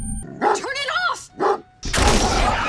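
In a tense scene from the horror film The Silence, a dog barks several times in short yelping bursts, close and loud, before a sudden rush of loud, broad noise takes over.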